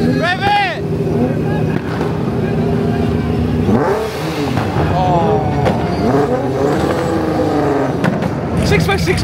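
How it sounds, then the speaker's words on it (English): Cars leaving the SEMA 2024 show rev their engines loudly in a continuous stream, rising and falling engine notes close by, with a crowd shouting and talking over the noise. "Rev it!"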